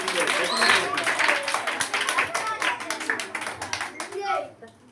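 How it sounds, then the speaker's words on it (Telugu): Children at a school puppet show clap in scattered, uneven bursts of distinct claps close by, with children's and adults' voices mixed in and the clapping thinning out toward the end. "ఏ భాష గారు క్లాప్స్ కొట్టట్లేదు"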